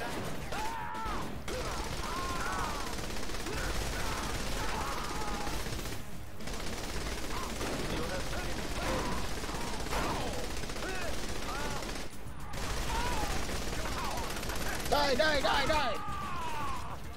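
Shotgun and other gunfire in the video game Saints Row 3: dense, continuous shooting and impacts under frequent overlapping talk and game voices, with a few brief gaps.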